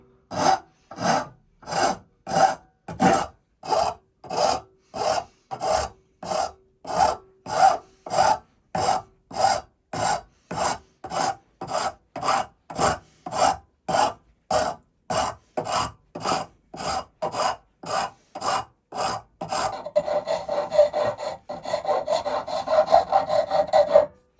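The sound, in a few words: hand-filing a chamfer along a wooden mallet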